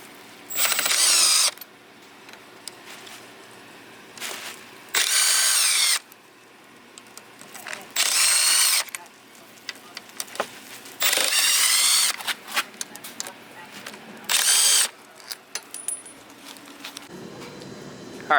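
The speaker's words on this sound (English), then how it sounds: "I'm going to use my 8mm socket and take off all those case screws," Case screws come off a Honda ATC70 three-wheeler's clutch cover with an 8mm socket on a power driver. Several loud whirring bursts of one to two seconds each are separated by quieter clicks and handling noise.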